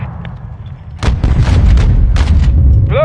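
Mortar fire in a military shooter game campaign: a quieter opening followed by a sustained roar of heavy booming fire and blasts from about one second on, loud and close.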